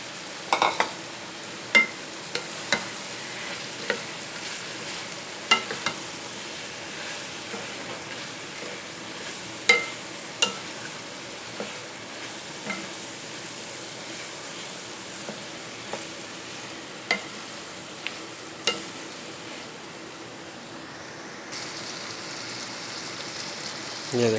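Bottle gourd and ridge gourd fry in a pan with tomato, giving a steady low crackle broken by sharp scraping clicks as the pieces are stirred, over about twenty seconds.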